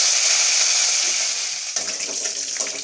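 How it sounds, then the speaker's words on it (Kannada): Curry leaves sizzling in hot oil for a tempering, a steady bright hiss that crackles up sharply partway through, close and continuous with no talk. "ಅದಕ್ಕೆ ಒಗ್ಗರಣೆಗೆ ಕರಿಬೇವು ಸೊಪ್ಪು ಹಾಕ್ತಾಯಿದ್ದೀನಿ"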